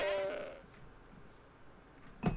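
A Minecraft goat gives a short, nasal in-game bleat at the start, followed by quiet background and a brief clatter near the end.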